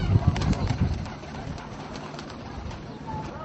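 Pigeons kept by a pigeon fancier, cooing close by, with a few low soft coos early on over a steady background murmur.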